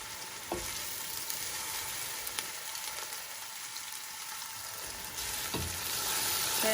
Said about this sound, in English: And we're gonna stir that.